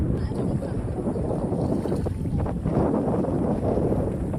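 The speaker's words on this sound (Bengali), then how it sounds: "প্রচন্ড বাতাসের কারণে ওরাই আসতে পারতেছে না।" Steady, strong wind buffeting the microphone with a low roar, with water and small dinghy boat noise underneath and no pauses.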